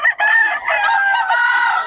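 A rooster crows loudly and close by, one long drawn-out call with no talking.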